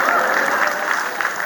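Audience applause at a humorous Hindi poetry recital held for a Teacher's Day celebration, a steady wash of many hands clapping at once that stays fairly loud and even from start to finish, with no voices over it.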